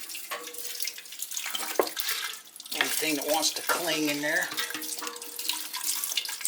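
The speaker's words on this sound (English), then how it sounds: "I've got some distilled water here, and I'll rinse the pieces out with some" Gold pieces rinsed with distilled water in a glass beaker while gold is being refined, giving a steady running, splashing pour with brief breaks, as someone speaks over it.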